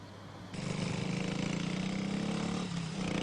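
A motorcycle on a 1960s road accelerates across a crossing, its engine surging loudly after a brief quieter moment and holding a steady, close drone to the end.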